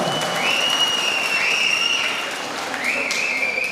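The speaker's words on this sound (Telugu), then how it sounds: "మనం చప్పట్ల ద్వారా వారికి కూడా ధన్యవాదాలు తెలియజేద్దాం." Audience applause at a state employees union congress fills the hall, steady and loud throughout, with a high tonal whistle or feedback line running over the clapping.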